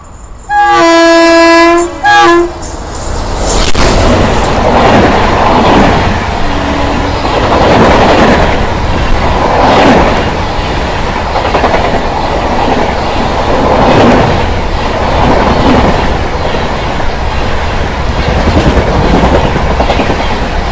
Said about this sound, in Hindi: आई गेस अब ट्रेन आ भी रही है, मुझे जो उसकी हेडलाइट है वो दिख रही है।